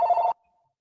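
A telephone bell rings once in an office, a short loud ring of about a third of a second that cuts off abruptly, leaving faint quiet tones after.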